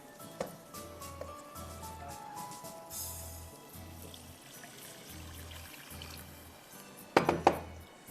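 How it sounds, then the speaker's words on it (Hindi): One cup of water poured into a cooking pot while making an oats and chicken dish, a soft steady trickle with a low repeating hum under it and a clink of utensils near the end. "और इसमें आपको पानी डालना है 1 कप।"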